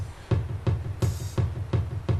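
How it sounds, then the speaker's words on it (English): An 80s-style electronic drum beat, steady kick and snare hits at an even mid tempo with a crisp cymbal splash midway, heard alone and fairly loud. "That's the electronic beat going on there."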